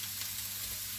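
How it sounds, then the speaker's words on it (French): Food browns in a frying pan, giving a soft, steady sizzle and hiss that runs unbroken and fairly faint for about a second, with no voices over it. "On fait bien revenir."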